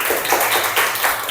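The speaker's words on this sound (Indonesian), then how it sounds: "Tepuk tangan loh untuk kalian." Clapping for students in a classroom, a short burst of close hand claps from a small group, brisk and fairly loud with no talk over it.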